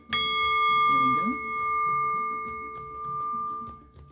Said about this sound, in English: let the final bell raise the vibration.